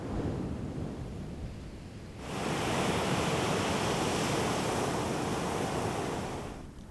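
Ocean surf at the shore, a steady broadband wash that swells louder a couple of seconds in and holds as a breaking wave rolls through, with no voices.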